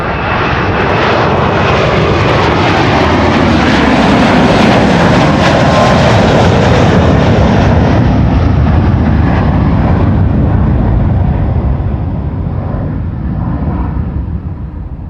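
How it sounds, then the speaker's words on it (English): An Airbus A330-300 airliner at Amsterdam Schiphol Airport roars past, a loud broad jet engine rumble that swells and holds for most of the stretch, then slowly fades at the end, with no talk. "A330-300 underway,"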